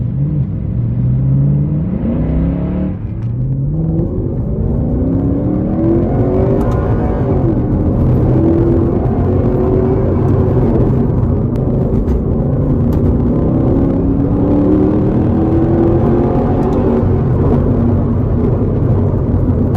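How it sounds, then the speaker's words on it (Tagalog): A 2015 Mercedes-Benz C63 AMG Black Series in Comfort Mode accelerating hard, its loud engine note rising steadily through the gears with brief dips at each shift, heard from inside the car with no talk. "Test driving the C63 AMG Black Series Comfort Mode. Let's do a pull."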